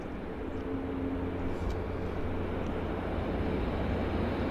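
An Air Canada heavy airliner, flight 304 bound for Montreal, moves at Vancouver International Airport (YVR). A steady, broad jet rumble holds throughout at moderate distance, with no talk.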